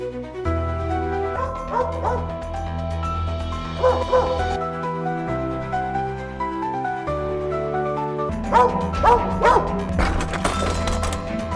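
A dog barks and yips repeatedly in bursts, with some whimpering between, over background music; fairly close and loud.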